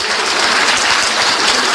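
A crowd at a political speech applauds steadily and loudly as Amadou Ba, the current Prime Minister, is announced as presidential candidate for Benno Bokk Yakaar, with dense clapping and no talk.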